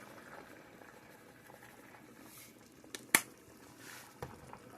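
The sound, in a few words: water at a rolling boil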